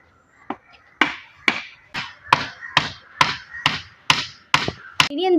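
A hammer drives wooden sticks together for a Christmas crib, landing about ten sharp, evenly spaced blows at close range with no talk.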